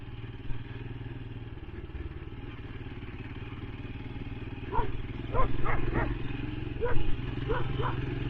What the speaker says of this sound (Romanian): sper să nu se ia câinele ăsta de mine